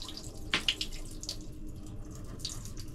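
Fresh water flows out of a boat's water line as a steady hiss and splash, with a couple of brief louder gushes near the start.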